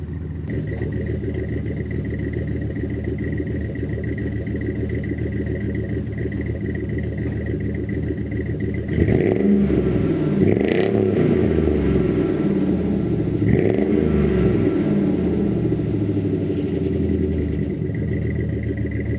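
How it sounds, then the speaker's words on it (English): A GMC Sierra HD pickup with a new Rumble Performance dual exhaust idles with a deep steady burble, then revs up around midway, the throaty roar rising and falling in a couple of bursts before settling. "here it is at idle with the new exhaust"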